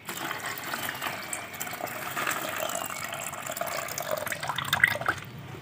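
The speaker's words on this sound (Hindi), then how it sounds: "अब इसको हम थोड़ा धो लेते हैं" Clean water runs and splashes steadily over RAM IC chips being rinsed for gold recovery, a continuous broadband wash with small drips and clinks throughout, fairly close and without speech.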